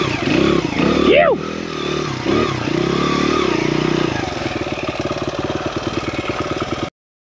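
A Honda XR100R motorcycle rides through a rough excavator-cut trail, its engine loud and close, rising and falling before settling into a steady putter, with a voice briefly over it.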